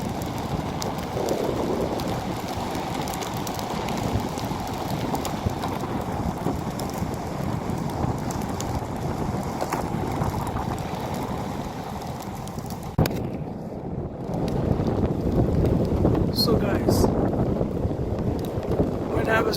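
Koowheel D3M mini electric skateboard rolling downhill outdoors, a steady broadband rumble of wheels on pavement mixed with wind buffeting the microphone, growing louder and rougher in the last few seconds.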